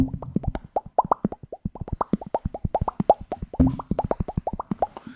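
A voice mimics a Primus-style bass effect with a rapid string of wet lip pops, dozens of quick rhythmic plopping bursts close to the mic with no words.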